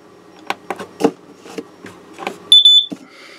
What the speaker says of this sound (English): I held it down a little bit longer and you got a double beep, but again it turned red.